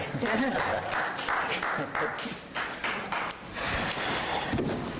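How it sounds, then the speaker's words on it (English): Scattered clapping breaks out in a board meeting room after a unanimous 5-0 vote, somewhat muffled and uneven, with background voices murmuring throughout. "Now you can clap."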